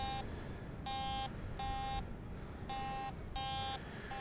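A metal detector sounds five sharp electronic beeps in an uneven rhythm as it passes over an iron target, close and clear over low background hiss.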